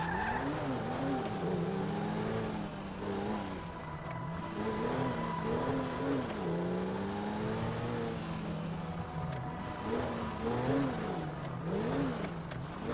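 A car in the GTA 5 video game drives through city streets, its engine revving up and down in waves with repeated tire squeals and skids, loud and continuous throughout.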